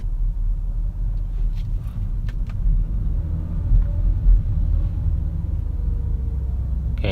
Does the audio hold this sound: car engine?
yes